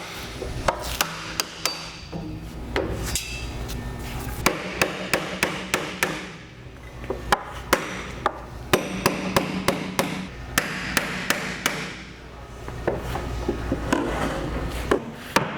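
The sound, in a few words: hammering loose the wooden stave of a sauerkraut barrel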